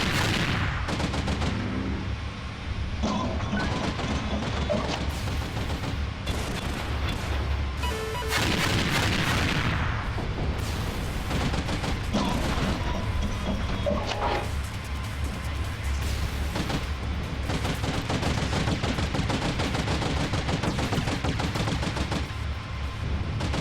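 Missiles and weapons fire in the sci-fi combat game Angels Fall First, a dense, continuous barrage of loud launches, rapid gunfire and booms with no pauses.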